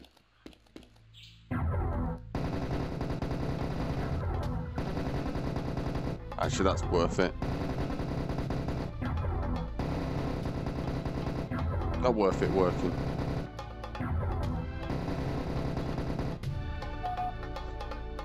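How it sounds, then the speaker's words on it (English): A pair of Tommy guns in VR Serious Sam The Second Encounter, set in the Persepolis Elephant Atrium, fires in long, loud, sustained automatic bursts with short breaks, while someone talks briefly over the shooting. "Let's just try Tommy guns since we have 2 of them"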